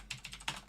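A brief burst of typing on a computer keyboard, three or four quick, close key clicks in a short uneven run.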